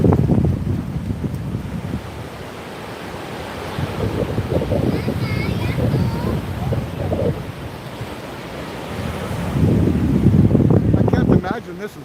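Ocean waves surge and wash up a beach at high tide in Hua Hin, with steady roaring surf and wind buffeting, swelling louder near the end.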